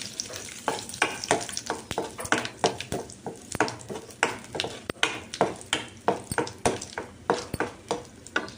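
Cumin seeds are stirred in hot oil in a pan for a Dhaba-style kaju paneer masala curry, with rhythmic scraping strokes, roughly two per second, over a light sizzle close by.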